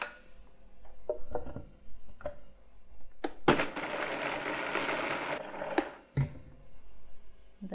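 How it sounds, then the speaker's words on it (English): A kitchen blender whirs loudly for about two seconds while blending a vegan cheese sauce of garlic, mustard and water, framed by scattered clicks and knocks of handling before and after. "We're just going to blend this up until it's smooth."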